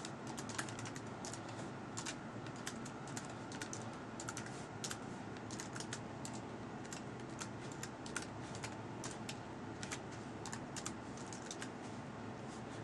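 Steady, quiet typing on a computer keyboard during a Mac OS X Lion install, with rapid key clicks continuing throughout and no voices.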